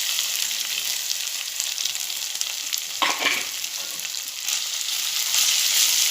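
Coarsely ground sweet corn goes into sizzling masala in a pan, giving a sharp burst of frying partway through over a constant bright hiss.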